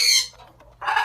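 A pet parrot squawks in two loud, harsh bursts close by, with a brief quieter gap between them.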